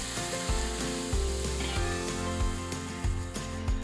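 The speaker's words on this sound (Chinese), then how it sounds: "将烧滚的油直接倒入姜末和葱花当中" Smoking-hot oil poured over minced ginger and chopped scallions for a Hainanese chicken rice sauce hisses in a loud, continuous sizzle, heard close up over a rhythmic tonal background.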